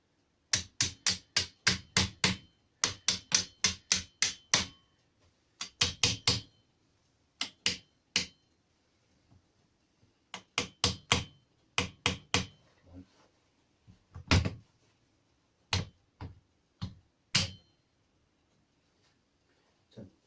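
Sharp metallic hammer taps on a metal pin of a ZB37 machine gun stand, in quick bursts of several strikes, then slower single blows with pauses between, close and clear.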